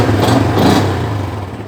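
Yamaha Vixion motorcycle engine started by an alarm remote, a brief loud catch and rev settling into a steady running note, close by.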